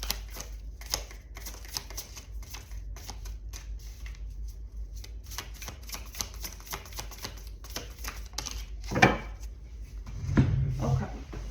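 Tarot cards being shuffled during a love reading, soft rapid riffling and flicking with card handling and a few light knocks, quiet and close.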